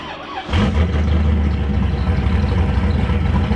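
A cammed 450 hp LS V8 swapped into a Nissan 350Z fires up and settles into a loud, lumpy idle with a choppy, uneven rumble, heard up close.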